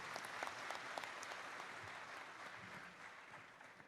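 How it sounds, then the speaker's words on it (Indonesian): A congress audience applauds a speaker with an even, continuous patter of many hands, faint and distant, slowly easing off toward the end. "Tepuk tangan untuk Kang Uus"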